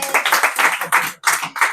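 A church congregation at a Sunday service claps in time, sharp rhythmic claps close by in quick regular bursts with a brief pause midway.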